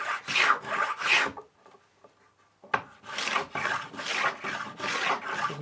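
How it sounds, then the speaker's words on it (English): A hand plane shaves a wooden spar for a traditional Thames sailing barge model. Crisp rasping strokes come up close: a few quick passes, a short near-silent pause, then a longer run of steady rhythmic strokes. "you can do so by planing slightly more off one end than the other"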